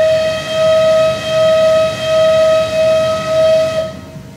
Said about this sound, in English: So this is the space bar whistle.